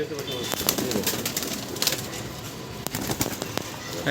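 Pigeons of country bloodline being released, soft cooing and intermittent wing flaps and clatters close by, with someone talking over them.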